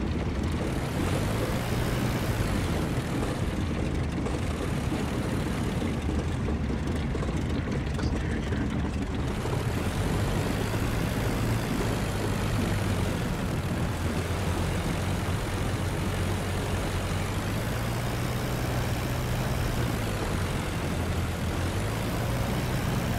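Propeller aircraft engine drones continuously in the Flying Circus flight game, a loud steady roar with slow rises and falls in pitch as the plane circles.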